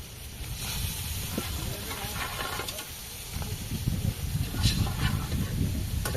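Rabbit meat with fried masala sizzles and hisses steadily in a hot pan in a village kitchen, a continuous crackling fry with occasional louder spits, with faint voices in the background.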